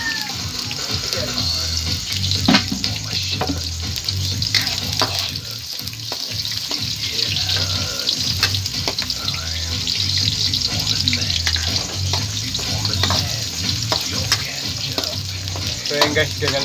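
Garlic and onion sauté in hot oil as the base for a chicken liver adobo, with a loud, continuous sizzle. Clattering stirring and a running-water hiss sound close by.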